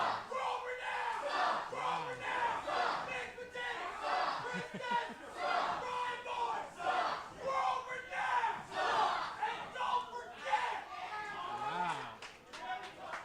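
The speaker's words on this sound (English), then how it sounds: "This crowd is amazing." At a live wrestling show, a large audience shouts and chants in pulsing, loud bursts while a commentator talks excitedly over the din.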